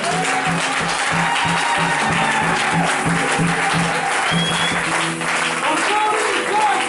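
A church congregation applauds loudly and steadily, a dense wash of clapping and cheering that runs throughout, with a low rhythmic beat pulsing underneath.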